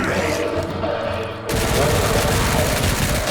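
Rapid video-game gunfire in Resident Evil Requiem rattles continuously, loud and dense, with a sharp burst kicking in halfway through; a voice may be faintly mixed in.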